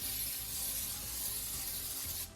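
A steady aerosol hiss from a can of Pam cooking spray runs continuously for a couple of seconds, then cuts off abruptly.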